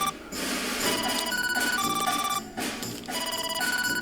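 A mobile phone rings with a bright, repeating electronic ringtone, loud and close, sounding on steadily without pause and with no talk over it.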